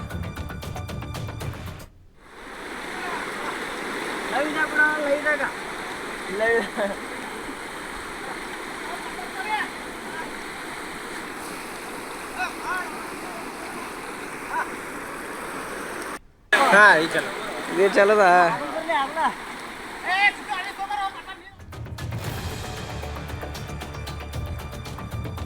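A swollen, flooded stream rushes across a washed-out rural road where farmers wade through carrying vegetables, a continuous loud roar of flowing water with people talking over it and a couple of abrupt breaks.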